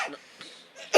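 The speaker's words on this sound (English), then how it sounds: "I'm coughing up blood." One person coughs in short rough bursts, a harsh hack at the start, a softer one midway and a sharp loud cough at the end, close and dry with no other sound around them.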